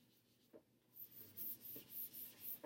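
Writing on a classroom board is rubbed away in a series of quick, rhythmic scrubbing strokes, soft and close, with a brief knock before the erasing starts.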